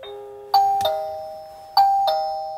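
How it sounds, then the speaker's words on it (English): A Tuya wireless doorbell chime receiver rings a ding-dong tone after a faint initial beep. It plays twice in a row, each time with two bright, ringing notes that decay slowly. The chime is clear and close in a quiet room. "I'm going to press the wireless doorbell, the smart doorbell button."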